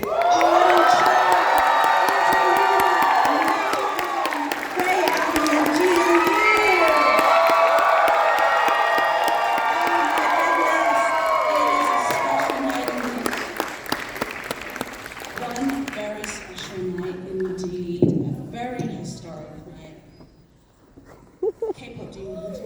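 A crowd at a Kpop Demon Hunters screening claps and cheers loudly, with whoops and shouts, as the voice and singing cast walk onto the stage. The dense ovation fades after about fifteen seconds, leaving scattered claps and a voice talking.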